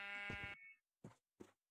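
Sheep in Minecraft bleat three times alone: one longer buzzy call, then two short clipped bleats after brief silences, close and clear with no talking.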